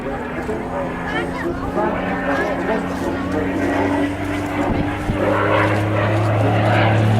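A vintage propeller fighter plane with a 1,200 horsepower engine flies at the Southport Air Show, its steady droning roar continuous and fairly near while a commentator talks over it.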